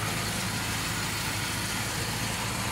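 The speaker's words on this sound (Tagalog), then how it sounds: "Bumaba naman ang tingin ko sa makina, bumaba na yung kanyang RPM." A Mitsubishi Pajero's 4G54 engine idles steadily at around 850 to 900 RPM, a continuous low rumble with a faint even throb that stays close and constant throughout, with no voices over it.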